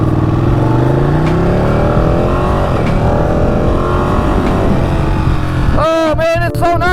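Ducati Panigale motorcycle engine droning loud and steady while riding, with rising and falling harmonic sweeps as the revs change, then a voice speaks briefly near the end over the running engine.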